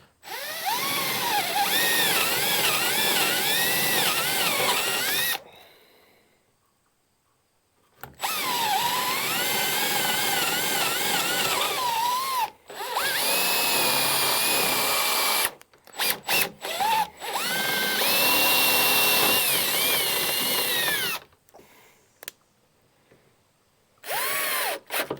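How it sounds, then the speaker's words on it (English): A power drill bores two half-inch holes side by side for a door latch on a playhouse, whining loudly in several long bursts separated by short pauses, close and alone. "I got to drill 2 half-inch holes, basically touching each other,"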